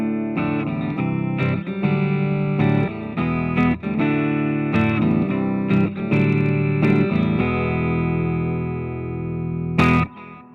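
Electric guitar played with a clean tone through a Positive Grid Spark 40 amp with light delay and reverb, sustained chords and picked notes ringing out with sharp attacks, a final strum near the end.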